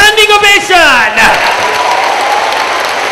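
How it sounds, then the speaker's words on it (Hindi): A loud announcer voice over a public address system calls for a standing ovation at a ceremony in Pakistan, then a large audience breaks into dense, sustained applause that continues steadily to the end. "भरपूर तालियां"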